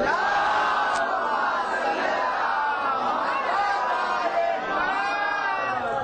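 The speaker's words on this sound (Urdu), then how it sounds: "مسلم عقیل کی شان میں ایک بآواز بلند صلوات" An audience at a majlis recites salawat aloud in unison, a steady, loud, massed chant lasting several seconds in a large hall.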